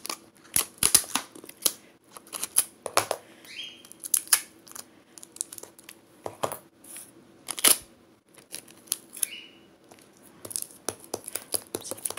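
Scissors snip through a piece of sticky tape laid over a felt amigurumi pumpkin, giving a series of sharp, close, quiet clicks and crisp cuts in irregular bursts with short pauses between them.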